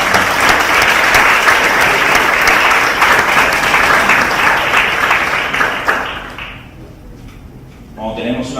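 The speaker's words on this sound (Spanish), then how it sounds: "un aplauso para esos hermanos" Church congregation applauding during a retreat session, a loud sustained wash of clapping that fades out near the end before a voice begins speaking.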